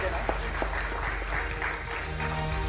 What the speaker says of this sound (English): If we could please keep the applause going and the clapping